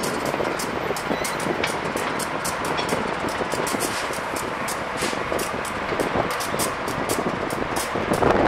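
A SEPTA commuter train departs 30th Street Station from the Amtrak level with a steady, loud rushing rumble and faint rhythmic clicking from the wheels, and no voices.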